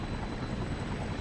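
A helicopter in the Infamous action game gives a steady, loud, close rotor and engine roar that stays continuous and dense throughout, with no voices.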